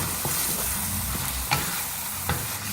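Spices and oil are stirred into mutton in a karahi, a close steady sizzle with a few sharp scraping knocks of the spoon against the metal pan.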